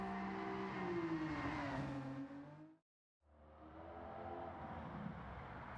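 Ford GT '17 engine after an engine swap in Gran Turismo 7, a loud steady engine drone with rising and falling pitch, cutting out briefly to near silence before a lower engine note returns and holds.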